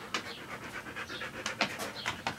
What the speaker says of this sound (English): Hear that? That's my dog.